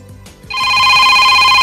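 A telephone rings loud and steady for an incoming call in a talk-show studio, one sustained electronic trill starting after a brief pause and running to the end.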